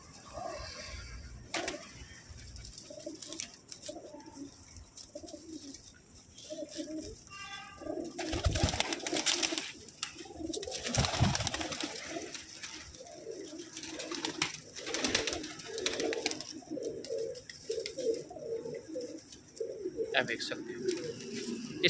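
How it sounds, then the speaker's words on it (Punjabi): Pigeons coo repeatedly in soft, low rhythmic bursts, mixed with rustling, wing flutters and handling noises, while someone talks over them for much of the time. "ਇੱਕ ਵੀ ਨਾਰਮਲ ਕਬੂਤਰ ਨਹੀਂ ਜੇ, ਅੱਲਾ ਦੇ ਹੁਕਮ ਨਾਲ ਅੱਛੇ ਕਬੂਤਰ ਜੇ ਸਾਰੇ"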